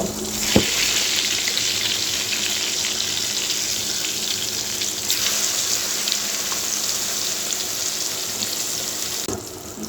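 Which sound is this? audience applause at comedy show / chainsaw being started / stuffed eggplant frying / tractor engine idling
stuffed eggplant frying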